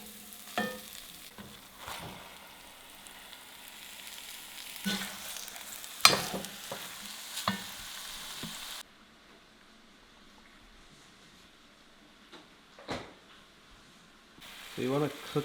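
Pork for a northern Thai curry frying in oil in a pan, a quiet sizzle broken by occasional stirring clatters, then a brief near-silent gap before the sizzle returns, with no talking.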